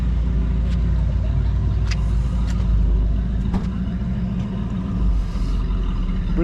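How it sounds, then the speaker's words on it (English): Hot rod cars at a road race, with a continuous engine rumble and cars passing at moderate distance, plus a few sharp transient bursts over a broad outdoor background. "Little road race action going on."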